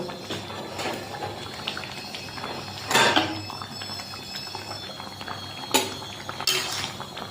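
Dishes being washed at a home kitchen sink, with a steady wash of running water broken by a few clinks of cutlery and plates, moderately close and without talk.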